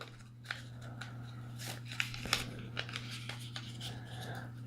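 Paper being folded into an origami rose: soft crisp creases and rustles at an irregular pace, close and quiet over a low steady hum.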